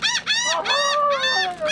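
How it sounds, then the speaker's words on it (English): Seagulls calling at Port Mansfield, Texas, a series of loud, close, harsh squawking cries in quick succession, one bird overlapping another, with no talking. "We're gonna have some seagull friends."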